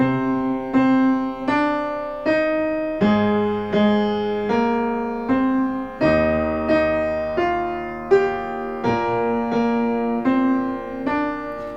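Piano plays a slow series of block chords, each struck firmly and left to ring before the next, with no voices.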